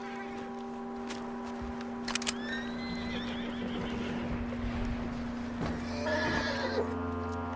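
A horse in Red Dead Redemption 2 whinnies in a high, wavering call over a constant electronic hum, with faint hoof clops and shuffling in the background.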